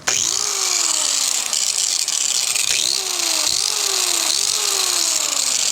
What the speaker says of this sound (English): So obviously I'm gonna have to grind that down a little bit more.